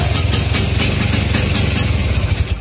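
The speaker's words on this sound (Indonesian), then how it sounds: "ternyata harus 2 kali selah baru nyala setelah kedinginan motor Vespanya" A Vespa Super Sprint scooter with CDI ignition and a J carburettor idles after being kick-started twice from cold, a steady close, loud two-stroke putter with a slightly uneven rhythm and light mechanical clatter.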